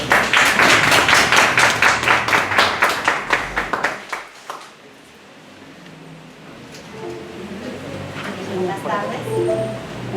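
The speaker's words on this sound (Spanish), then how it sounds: "Por favor, un aplauso para ti." Loud, dense applause from a crowd at an arts-education colloquium that fades out after a few seconds, followed by quieter room noise and the start of someone speaking in Spanish.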